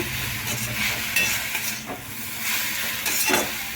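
Grated beetroot sautés over a low flame in a pan for halwa, giving a steady soft sizzle with scraping stir strokes, close and moderately loud, with no voices.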